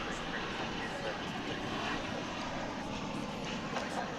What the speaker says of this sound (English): That's American Flight 1631 coming in from Santa Ana, California, 737-800.